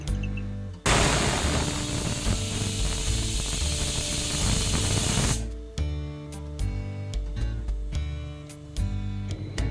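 A pressure cooker cooking lentils on a gas stove vents steam in a loud, sustained hiss lasting several seconds, then cuts off abruptly, leaving faint kitchen noise.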